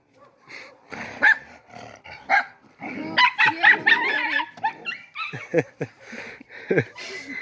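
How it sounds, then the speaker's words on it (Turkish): Dogs on a farm bark and yip in quick, irregular bursts nearby, mixed with growls and whimpers, loud and close. "Evet Onur köpeklerimizi tanıt."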